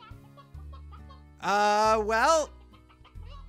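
Video game chickens from Slime Rancher clucking in one loud, drawn-out squawk with a rising and falling pitch, set against steady game background music. Someone speaks briefly just before.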